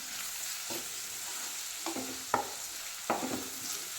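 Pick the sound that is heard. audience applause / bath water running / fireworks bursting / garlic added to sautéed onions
garlic added to sautéed onions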